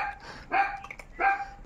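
A dog near a canal where people are fishing gives two sharp, close barks, each about half a second apart.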